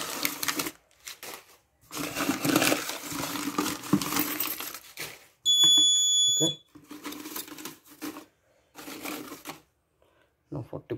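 A high, steady electronic alarm tone from an Arduino-based smart dustbin sounds for about a second amid people talking, then stops.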